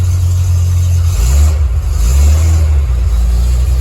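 A Datsun 240Z engine idles after a cold start, having sat unused for a couple of weeks; a loud, close, steady low rumble with a slight swell in revs partway through.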